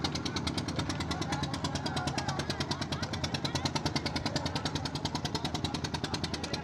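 A passenger boat's engine runs on the Ganga river while the boat carries 60-70 people and motorbikes, giving a loud, steady, fast-pulsing drone close by with no talking.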